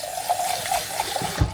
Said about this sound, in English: And put some water in there